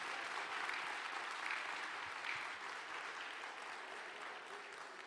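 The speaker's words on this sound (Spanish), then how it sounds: "Dale el aplauso al Señor," A church congregation breaks into sustained applause, a dense, steady wash of many hands clapping at moderate loudness that fades slightly toward the end, with no voice standing out above it.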